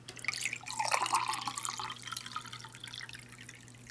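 A drink from a 2015 MRE beef taco menu being poured into a small glass, a faint trickling liquid splash rising then tapering off over a few seconds, close and quiet.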